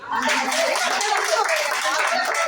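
An audience at a joint Happy Gardeners and Godavari Garden Group gathering in Rajahmundry bursts into brief, dense, close clapping that stays loud and continuous throughout.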